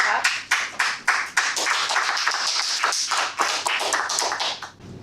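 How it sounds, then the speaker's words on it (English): A small group at a Toastmasters meeting claps in a steady, brisk rhythm, the separate hand claps clear and close throughout. "Clap, clap, clap."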